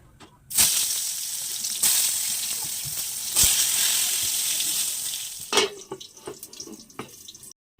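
Eggplant slices frying in a pan at home, a loud broad sizzle that bursts in with sharp crackles and spits, then thins into scattered pops and fades out near the end, close up with no talking.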